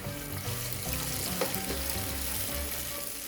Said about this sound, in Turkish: yağımız kızmaya başlayınca rendelediğimiz soğanımızı tenceremize alıyoruz